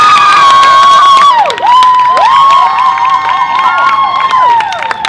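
A crowd at a live community song event in the city cheers and shouts loudly with high whoops and sustained voices, a dense, close wash of excitement filling the whole moment.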